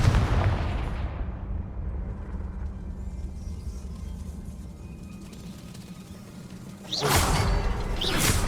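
A Confringo spell in Hogwarts Legacy bursts with a loud blast that decays into a low rumble, followed by a second sharp explosive burst near the end, close and without talk.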